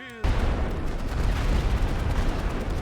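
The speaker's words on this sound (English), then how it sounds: "All right, so I'm going to call in artillery here." Heavy artillery barrage in the WWI strategy game The Great War: Western Front, a dense, continuous rumble of booms and blasts erupting abruptly after a brief lull and holding loud to the end.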